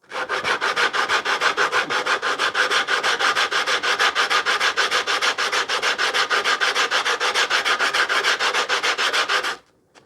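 Something is rubbed quickly back and forth across sandpaper during a wooden hand plane restoration, a steady rhythmic scratchy rasping lasting about nine seconds, close and loud, then stopping.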